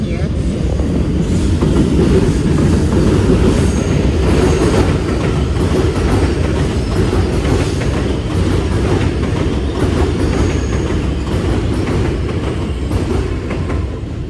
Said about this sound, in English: Here's the train that you're gonna hear.